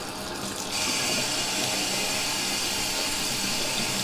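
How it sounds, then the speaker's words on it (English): Water gushes steadily from a bathtub tap into the bucket of a wallpaper steamer, a continuous close hissing splash that grows fuller and louder after the first moment, with no talking. "I'm filling up my steam bucket for the wallpaper steamer here in my bathtub."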